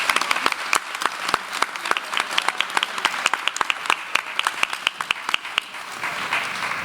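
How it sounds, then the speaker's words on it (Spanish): Strong, dense applause from an audience at the Feria del Libro Aragonés book fair in Monzón, many sharp claps close and loud, sustained for several seconds before tapering slightly at the end. "un fuerte aplauso para ellos en primer lugar"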